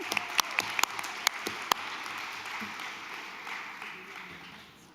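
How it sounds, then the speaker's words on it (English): An audience at a school district board meeting applauds, with a few sharp, close individual claps standing out early before a softer, dense wash of clapping gradually fades. "Round of applause, please."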